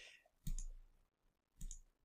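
Two quiet computer mouse clicks, a little over a second apart, each a short sharp tick with no voices around them.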